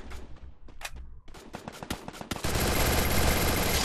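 Machine gun fire in the Free Fire video game: scattered single shots and short bursts give way to a loud, sustained stream of rapid gunfire.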